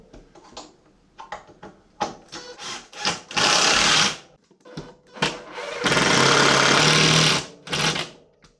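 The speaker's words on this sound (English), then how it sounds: "I can drive the screws" Power screwdriver driving screws into a workshop wall to mount a shop air cleaner, two long loud whirring bursts separated by short knocks and handling clatter close by.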